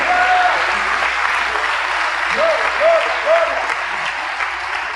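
A church congregation claps steadily for several seconds during an evening service, a dense wash of applause with a voice briefly heard over it.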